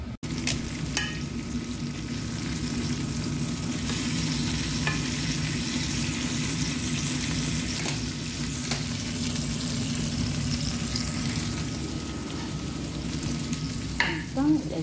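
Potatoes fry in a pan as fries, a steady close sizzle that runs throughout with occasional soft stirring scrapes and no talk.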